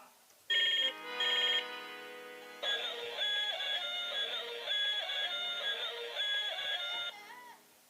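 An iPhone ringtone sounds for an outgoing call: two short bright chimes, then a longer looping melodic ring that plays steadily for several seconds before stopping.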